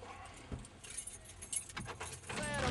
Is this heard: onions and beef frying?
no